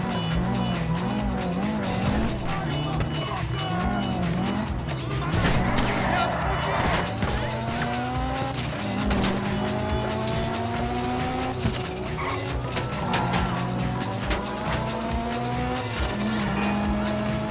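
A car in Grand Theft Auto V revs and squeals its tires through repeated skids, engine pitch sweeping up and down under steady game-world noise, with a voice speaking over the driving at times.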